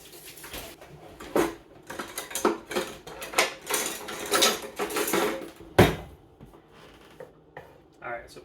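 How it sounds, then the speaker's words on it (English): A utensil pushes butter around a hot pan for a roux, with irregular scraping and clinking strokes at close range and a quiet sizzle underneath. "push the butter around a little bit, melt it down"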